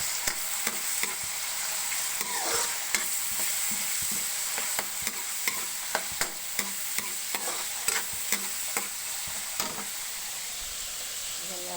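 Rice fried with hotdog and leftover meat sizzles and crackles in a hot pan, with a steady hiss broken by regular clacking strokes of a stirring utensil, close and unvoiced throughout.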